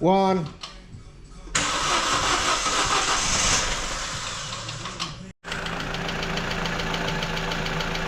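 A car engine cranks and catches after a short spoken countdown, then idles smoothly and evenly once the hydraulic lifters have filled with oil, with a brief dip before settling into a steady run.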